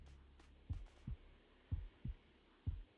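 Heartbeat in the video game Dragonball The Breakers: deep, thudding double pulses repeat steadily over a low hum, standing out clearly against quiet surroundings.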